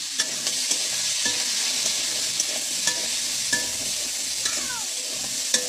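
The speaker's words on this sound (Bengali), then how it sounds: "প্রত্যেকটা সবজি একটু আলাদা আলাদা ভেজে রান্না করার চেষ্টা করি" Winter vegetables sizzle steadily in a hot pan, a continuous bright hiss broken by occasional soft clicks of a spatula stirring, close and alone.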